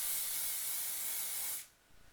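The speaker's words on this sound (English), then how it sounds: "And spray it down." Hairspray sprayed onto hair set in 1940s faux bangs, one steady close hiss lasting about a second and a half before it cuts off abruptly.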